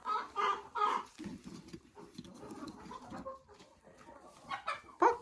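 Broody hens sitting in occupied nests give low, throaty clucks and a few sharper squawks at close range, rising and falling in uneven bursts with no talk over them.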